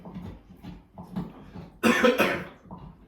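A single harsh, loud cough bursts out after a few quiet murmured sounds, close to the listener.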